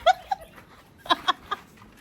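A pet dog gives a handful of short, sharp yelps close by: a pair of quick cries, a pause, then three more spaced bursts, with no talking.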